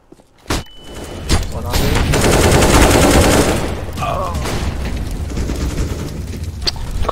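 Rapid bursts of gunfire in CS:GO, a close volley of shots and a dense fusillade building to a loud peak, then continuing more lightly with scattered game effects.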